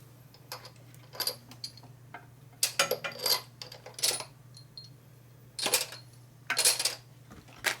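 Small metal motorcycle handlebar bolts from a 1988 Harley FXR drop and clink one after another onto a hard surface, several sharp bright rattles spaced across a quiet room with a faint steady hum beneath.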